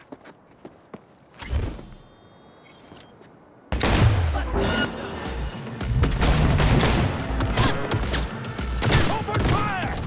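Gunfire in Cyberpunk 2077: a few scattered shots at first, then from about four seconds a dense, loud, sustained volley of rapid fire with impacts and game voices mixed in.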